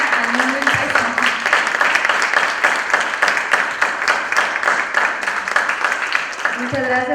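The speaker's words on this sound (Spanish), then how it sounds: "Muchas gracias y un aplauso para Ale." A crowd at a book launch applauds steadily throughout, dense clapping from many hands with a faint voice briefly audible at the start and end.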